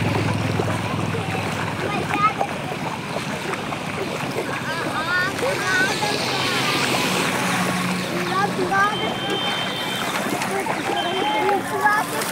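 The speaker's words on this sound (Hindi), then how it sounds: "पूरा स्पीड है, पानी का रफ्तार बढ़ते जा रहा है।" Fast-flowing Ganga floodwater surges across a national highway and flooded fields toward houses, a continuous rushing and splashing roar heard under someone talking throughout.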